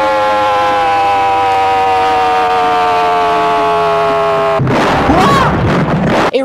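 A loud, sustained Iranian air-raid emergency alert siren drones with a slowly falling pitch, then a sudden burst of explosive noise and crackling rumble cuts in near the end.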